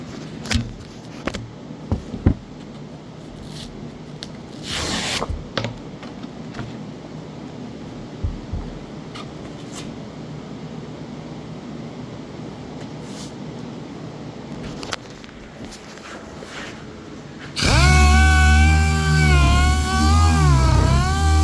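A sanding pad working over the aluminium body of a 1956 Airstream Overlander trailer, a long, steady, scratchy abrasive rasp, then a much louder, whining motor drone near the end.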